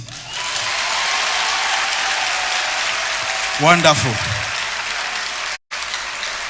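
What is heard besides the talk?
audience clapping at a comedy show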